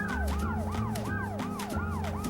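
Ambulance siren in a police chase video game, a loud repeating wail that sweeps up and down in quick regular cycles over a low engine drone, steady and close throughout.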